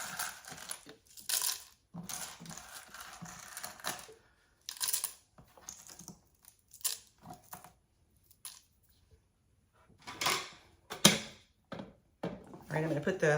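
Dried tomatoes, preserved and crisp, crackle and rustle as they are handled, giving bursts of dry crunching and snapping with short pauses between handfuls, close by and moderately loud.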